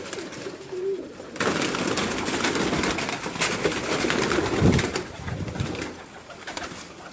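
Pigeons bred by a fancier cooing in a loft, soft low coos rising over a busy bed of rustling, fluttering and scattered calls, fairly close and continuous.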